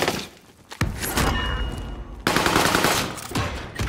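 Gunfire in a first-person shooter game: loud, close bursts of rapid automatic fire with sharp impacts, broken by a brief lull and then resuming, with no talk over it.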